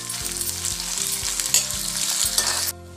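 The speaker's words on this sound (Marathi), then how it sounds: "कांदा आपल्याला गुलाबी होईपर्यंत मस्तपैकी फ्राय करायचा आहे." Chopped onions sizzle steadily on a hot tawa griddle while being stirred for tawa pulao, a loud, continuous frying hiss with a few brief spatters, with a soft background tune underneath.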